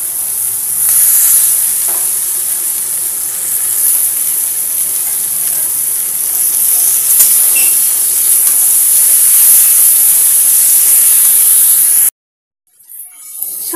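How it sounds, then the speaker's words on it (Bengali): Chicken pieces added to hot fried spice paste for an Indian chicken curry, a loud steady sizzle and hiss that runs for about twelve seconds before cutting to near silence. "এবার আমি এর মধ্যে মাংসগুলো দিয়ে দেবো।"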